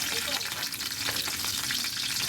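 Garlic frying in a hot pan for chicken adobo gives a steady, dense sizzle that stays close and even throughout, with light stirring scrapes and no voices.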